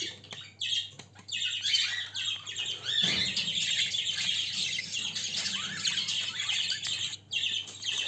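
Lutino Japanese society finches chirp and squawk busily at close range, a dense chorus of high, overlapping calls with brief dips and no talking.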